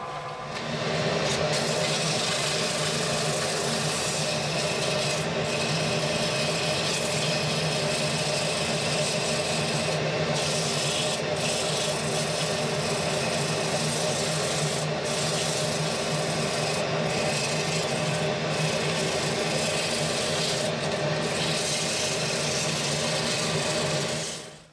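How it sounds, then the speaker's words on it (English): Wooden toy truck tire edges being sanded round, a continuous dense abrasive rasp with a steady motor-like hum beneath, sustained and close for the whole stretch with a few brief breaks. "I'm going to sand the edges to round them off."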